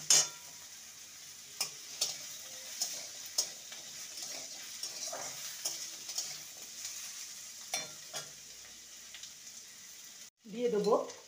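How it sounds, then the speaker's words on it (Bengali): Small pieces of a medium-sized potato fry in a pan with onions, giving a steady soft sizzle broken by repeated scraping stir strokes, ending with a brief louder clatter. "আলুটাকে ভেজে নেব।"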